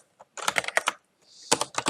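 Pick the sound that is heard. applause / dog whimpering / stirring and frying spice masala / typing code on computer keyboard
typing code on computer keyboard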